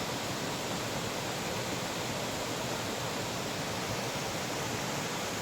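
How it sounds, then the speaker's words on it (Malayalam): Steady broadband roar of the Orappankettu waterfall heard from a distance, an even wash of rushing water that holds without a break and with no voices. "സംഭവം വെള്ളച്ചാട്ടം കാണാൻ നല്ല ഭംഗിയുണ്ട് കേട്ടോ"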